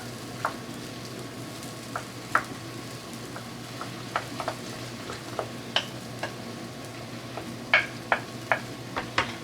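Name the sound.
stirring quiche eggs and peppers in a pan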